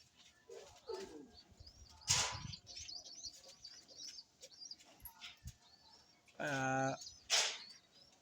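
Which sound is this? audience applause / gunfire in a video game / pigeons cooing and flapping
pigeons cooing and flapping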